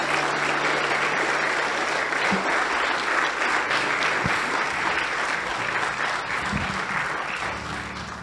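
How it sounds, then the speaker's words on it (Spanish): A church congregation claps loudly in praise of Christ, sustained dense applause holding steady for several seconds and tapering slightly toward the end. "le damos un aplauso fuerte a Cristo Jesús"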